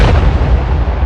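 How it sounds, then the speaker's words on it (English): A grenade blast in a wartime audio drama hits as one loud, close boom with a deep rumbling tail that fills the whole short moment. "Grenade!"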